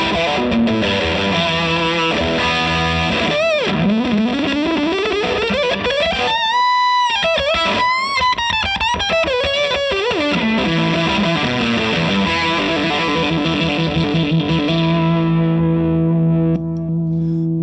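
Distorted electric guitar runs through a Nutube tube preamp with its fat switch adding gain and sustain, playing loud, continuous sustained lines with pitch bends and held notes for the whole stretch, no talking.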